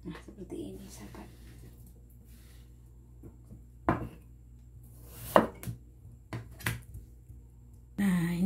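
A knife slices potatoes on a cutting board in a home kitchen, making a few sparse, sharp cuts separated by quiet gaps, close and moderately loud.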